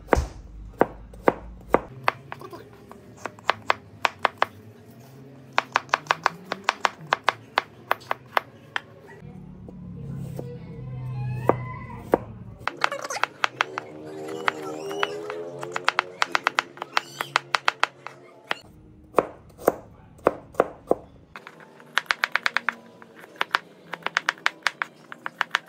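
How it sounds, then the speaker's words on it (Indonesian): Red star fruit (belimbing) being chopped with a knife on a board while making sambal: steady, sharp close knocks in repeated runs with brief pauses, and a voice talking at times between the cuts. "Belimbing ini kita potong."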